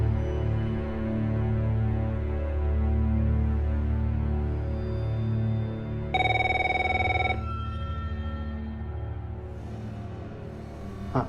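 A telephone rings in a tense Hindi suspense-thriller scene as a call goes through to the inspector. The steady ringing runs through the whole stretch over a low background bed, with one brighter, louder burst partway through and no talk.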